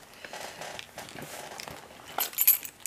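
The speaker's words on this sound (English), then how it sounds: "My car keys." A bunch of car keys jangles faintly as it is pulled out of a bag, with a few soft clinks and a brighter rattle near the end.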